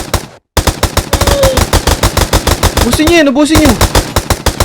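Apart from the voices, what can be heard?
gunfire from guns in Minecraft video game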